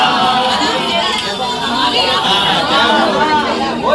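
A dense crowd murmurs and chatters at a Tulsi-Shaligram wedding ceremony, with many overlapping voices forming a steady, close hubbub throughout.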